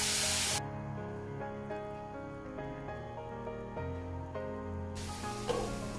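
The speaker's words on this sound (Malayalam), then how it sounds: "ഇനി ഇതിലേക്ക് കഴുകി ചേർത്ത് വെച്ച ചിക്കൻ ചേർത്ത് കൊടുക്കാം" Washed chicken added to a hot pan and mixed in: loud bursts of hissing sizzle at the start and end, with steady background music playing throughout.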